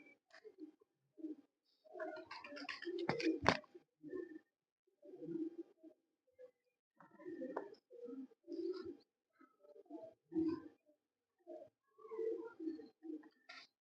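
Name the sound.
champion racing pigeons cooing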